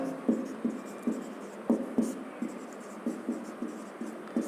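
Chalk or marker writing on a classroom board during a science lesson, with regular short scratchy strokes tapping out a steady beat, close and moderately loud.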